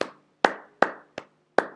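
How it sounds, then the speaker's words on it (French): Five sharp, separate hand claps at a steady, unhurried pace, close and loud with clean silence between each. "J'aimerais encore applaudir pour vous."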